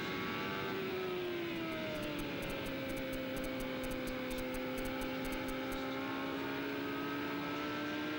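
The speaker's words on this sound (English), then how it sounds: "Dominic's motor a little rough" A 1994 IndyCar engine drones at speed on the Nazareth oval, a sustained whine with gliding pitch from passing cars and a brief buzzing rattle partway through.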